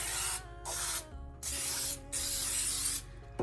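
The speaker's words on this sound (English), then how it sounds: "you don't typically have to spray these, but I'm going to" Cooking spray hisses onto a loaf pan in three long bursts separated by short pauses, loud and close, before a cake is baked in it.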